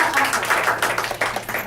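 Faculty members at a meeting give a short burst of applause, with many hands clapping in an irregular patter that stays fairly even for a couple of seconds.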